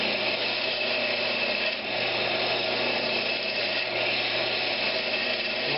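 Wood lathe turning a rolling pin while a tool cuts a cove, a continuous close, loud rushing scrape holding steady throughout with no talk.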